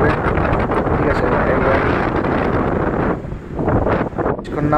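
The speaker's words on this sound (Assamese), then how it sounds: "বহুত বতাহ মাৰে মানে ইমান বতাহ কি ক'ম" Strong wind buffets the microphone on an open bridge at the Lohit Parshuram bridge, a loud continuous roar that dips briefly near the end before gusting back.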